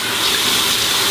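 Water runs from a tap in a steady, close, full gush for face wetting before shaving, with no talk.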